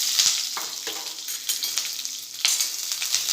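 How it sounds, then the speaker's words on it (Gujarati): Three sliced onions sauté in a pan for Rajasthani malai pyaz sabji, a close, continuous frying sizzle with stirring scrapes and crackles and no talking. "હવે થોડી વાર સાતળી લઈશું પ્યાજને"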